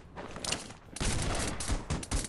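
Bursts of rapid gunfire in the battle royale shooter Rules of Survival, several loud volleys in quick succession with brief pauses between, dense and close.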